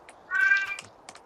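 A small gray kitten gives one clear, drawn-out meow close by, followed by faint scattered clicks and rustles.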